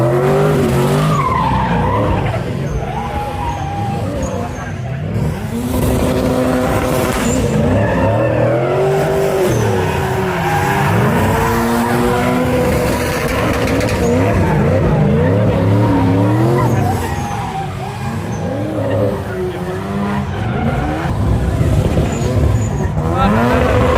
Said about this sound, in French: c'est une DeLorean de drift